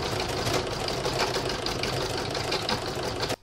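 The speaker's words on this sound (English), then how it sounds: "now going to pop it into my machine to do the stitch down round" A sewing machine stitches down a round on a Kreative Kiwi spider web embroidery project, running steadily and loudly at close range with a dense, even whirr for about three seconds before stopping abruptly.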